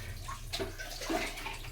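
Warm water sloshes and splashes steadily while pet dog Loki gets a bath rinse in a tub, close and fairly soft, with small bursts of pouring and dripping.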